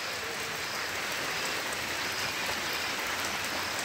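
Light drizzle falls steadily outdoors around a home garden, a soft, even hiss of fine rain with no breaks or voices.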